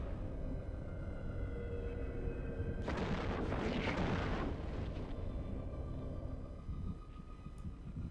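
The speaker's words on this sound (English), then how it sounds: "They're clearly firing, so are these guys." Spaceships trading weapons fire near a Blood Raider shipyard in the video game EVE Online, a dense rumbling burst of explosive booms swelling over a low steady drone, then fading back to the hum.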